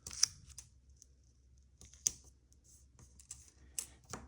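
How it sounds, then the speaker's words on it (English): Short bursts of tape are pulled and pressed onto cardstock for a calendar project: a few sharp, crackly strips with quiet gaps between them, close and fairly soft, with no talking. "I'll put a couple pieces of tape to make sure that it doesn't shift around."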